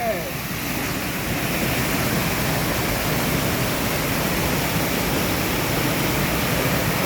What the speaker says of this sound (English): See the water flowing down